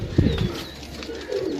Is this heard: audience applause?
no